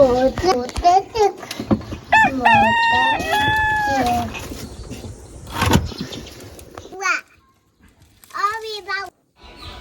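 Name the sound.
chicken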